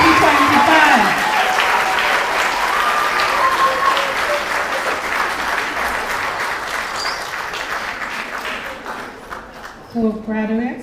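Loud, sustained applause from a large crowd at a primary school graduation ceremony, with cheering voices mixed in, gradually tapering off before a brief swell near the end.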